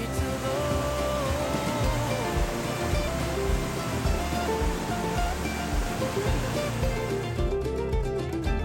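Strong river current from mountain snowmelt in a Norwegian fjord rushes in a loud, steady, broadband roar that continues unbroken with no voices.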